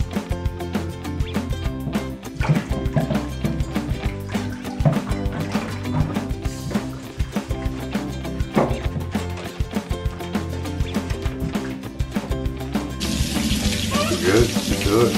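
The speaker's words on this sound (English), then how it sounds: "Today, a monkey Boo is taking his first jacuzzi" Tap water pours steadily and loudly into a jacuzzi tub during a capuchin monkey's bath, a continuous rushing splash up close, with a brief shift in tone near the end.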